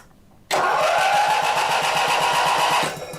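The two-cylinder engine of a 43-year-old British garden tractor, one cylinder with no compression, cranks on the starter for a compression test. Loud, steady rhythmic churning begins abruptly and runs about two and a half seconds without firing.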